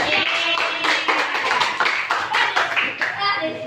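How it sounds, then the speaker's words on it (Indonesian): A classroom of students gives applause for the first group, a burst of close, irregular hand clapping that runs through the whole stretch with some chatter mixed in. "Tepuk tangan untuk kelompok 1."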